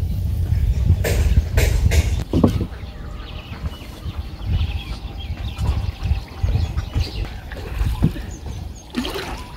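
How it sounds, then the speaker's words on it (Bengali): A boat moves across monsoon floodwater toward a village, giving low rumbling, water trickles and a few knocks against the hull. Faint birds or a rooster sound in the background. "আমরা নৌকায় উঠে পড়ছি, যাইতেছি মির্জাপুরের দিকে"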